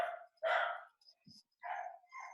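A pet dog barks indoors in a few loud, close bursts with short gaps between them, and a small faint sound falls in one of the pauses.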